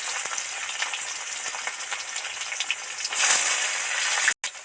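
Thick-cut onion slices frying in oil with dried chili and bay leaf give a steady, close crackling sizzle that grows louder and denser toward the end, then breaks off briefly.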